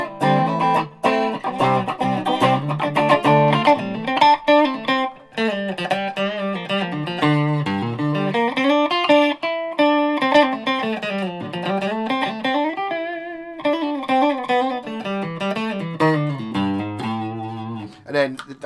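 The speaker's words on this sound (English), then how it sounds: "you do get a single coil sound." A Yamaha ERG121C electric guitar on its single coil pickup plays a clean melodic run of shifting notes and bends, loud and close, with sustained tones and short gaps between phrases.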